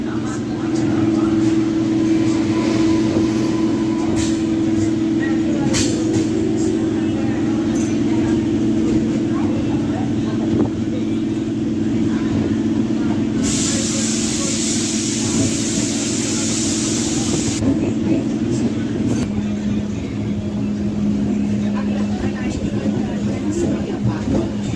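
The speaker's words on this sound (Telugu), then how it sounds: "అక్కడ నుంచి ట్రైన్ వెళ్తుంది సూపర్ ఫాస్ట్ ఎక్స్ప్రెస్." A superfast express train moves out from a platform on the Lingampalli to Secunderabad line, giving a steady, loud rumble with a sustained drone and a burst of bright hiss midway; no distinct speech.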